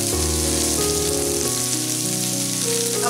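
Cumin seeds, green chilli and ginger sizzle in hot oil for a spicy green peas dish, a loud, steady frying hiss that runs unbroken throughout.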